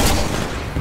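Dense gunfire from the Titanfall video game, a continuous loud burst of rapid shots with booming low end filling the whole moment, no voices over it.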